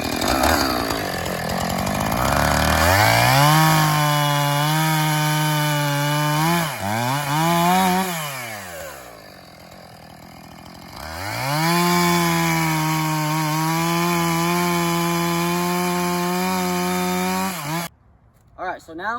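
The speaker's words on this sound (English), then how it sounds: "Now I'll come back with my chainsaw and finish my cuts and give it some firewood." A chainsaw cutting through logs into firewood, its engine droning steadily under load, dipping and rising between cuts with a pause near the middle before resuming and cutting off at the end.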